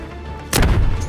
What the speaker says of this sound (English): Stun out.